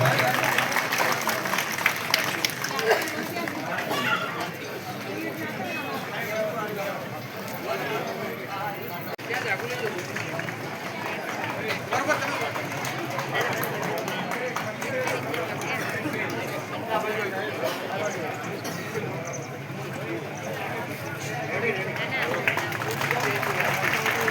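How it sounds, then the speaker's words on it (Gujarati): An audience claps continuously at a primary school inauguration ceremony, a broad steady wash of applause lasting the whole stretch, with voices mixed in. "સૌ મિત્રો આપણે તાળીઓથી વધાવશું બરોબર"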